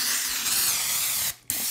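A steady close hiss of a spray bottle misting continuously, cut by a brief pause before a final short burst.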